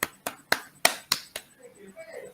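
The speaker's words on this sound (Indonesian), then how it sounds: "Sebelumnya beri tepuk tangan untuk kita semua dulu." A group at a school coaching session claps together: about six sharp, loud claps in a quick, even rhythm, then fading into quiet room murmur.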